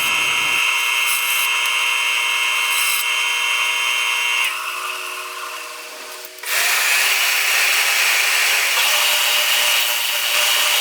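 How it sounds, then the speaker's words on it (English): A bandsaw cuts excess wood off a glued-up Celtic knot blank, giving a steady loud whine and rasp that dips in the middle as the blade eases through, then surges back to full strength for the final pass. "I'm going to take it back to the bandsaw and I'll cut the excess"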